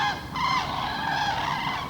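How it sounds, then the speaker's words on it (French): Geese honk as a flock passes overhead on an autumn outing, a dense overlapping chorus of nasal calls at middle distance, steady over two seconds with no talk. "Ou des oies, peut-être des oies."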